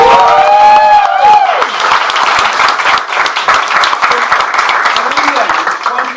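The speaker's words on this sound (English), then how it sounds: "So if we could just get an advance round of applause." Loud, sustained applause and cheering from an audience, dense claps building after a shout and continuing steadily close by, with a few voices rising over the crowd.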